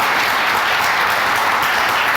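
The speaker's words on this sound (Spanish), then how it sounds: "Denle un aplauso fuerte, que se lo merece" Loud, steady applause from a large church or conference audience for Bible translator Alfredo Tepox Varela, a dense, even wash of clapping that holds for the whole stretch with no voices on top.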